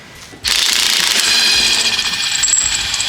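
A powerful impact wrench loosening lug nuts on a six-ton expedition truck tyre, starting abruptly after a quiet moment and then hammering loudly and continuously up close for the rest of the clip.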